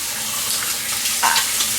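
Tap water runs steadily into a sink as hands are washed, a dense broadband hiss close by with a few brief splashes, no talking.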